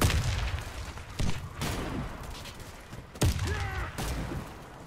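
Gunfire and an explosion from the video game Warface, with repeated sharp booming shots spaced a second or so apart and a louder blast partway through, under game background noise.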